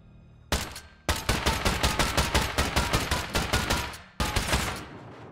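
Rapid automatic gunfire from the survival game Rust during a base raid: loud, close bursts of dozens of evenly spaced shots, a brief pause near the start, a long sustained string, then a short final burst.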